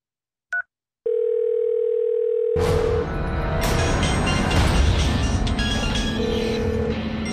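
A brief beep, then a steady ringing tone on the line that is soon swamped by a loud rumbling roar, the ring faintly returning near the end.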